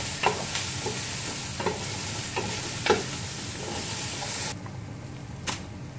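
Garlic and onion sizzle steadily in a pan over low heat while a utensil stirs them, leaving several scraping knocks along the way before the frying drops a little quieter near the end.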